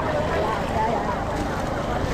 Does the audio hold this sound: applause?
no